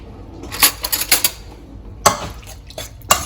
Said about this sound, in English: So I'm going to mix this, get it all over, make sure I have enough of the soy sauce spread around and the eggs